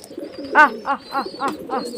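Pigeons coo while they feed, giving one louder coo followed by four softer, evenly spaced coos close by, with no voices.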